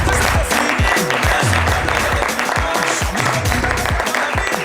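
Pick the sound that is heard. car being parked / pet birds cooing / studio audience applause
studio audience applause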